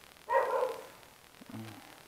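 A dog barks once loudly nearby during a motorcycle taxi pickup, followed by a softer short yip a moment later, against quiet background.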